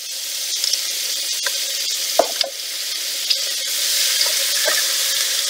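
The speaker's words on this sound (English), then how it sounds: "I have the bacon in here. And what I'm gonna do now is add the butter." Butter melting into bacon in a pot gives a steady broadband sizzle throughout, with a few brief clinks from stirring over the frying hiss.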